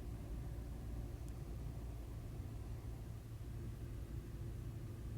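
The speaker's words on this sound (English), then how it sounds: "With the vehicle running, you're going to turn on the rear wiper blade." A fifth-generation Toyota 4Runner idles steadily with its rear wiper switched on, giving a low continuous engine rumble at close range with no distinct wiper strokes standing out above the hum.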